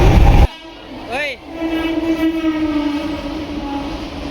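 A passenger train bound for Thane sounds a loud horn during the ride, then the carriage rumbles on with a sustained tonal whine and steady rolling noise.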